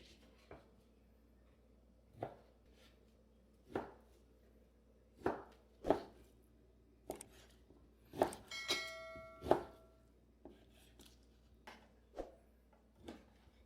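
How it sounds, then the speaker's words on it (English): A knife slicing a petite bottom sirloin beef steak on a cutting board, sharp separate thuds coming every second or so, close and clear against a quiet background. "We're going to slice up the steak."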